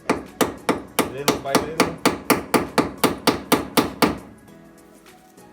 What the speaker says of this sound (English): Now with a hammer we need just tap it out